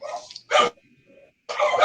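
Pet dogs barking indoors, with short sharp barks in separate bursts broken by near-silent gaps, loud and close, and no talk over them.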